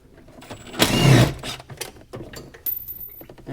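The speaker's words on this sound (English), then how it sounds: "So I'll go ahead and take the upper bolt off." A 10mm bolt comes off the thermostat housing of a 2012-2017 Jeep Wrangler with a 3.6L engine. A short, loud burst of ratcheting or tool whir comes first, then scattered faint clicks and taps from close by.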